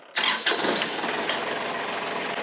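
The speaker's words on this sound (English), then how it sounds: "We'll start up the tractor." Kubota tractor engine cranking and catching with a couple of sharp starter bursts, then settling into a steady, loud idle close by, no voices.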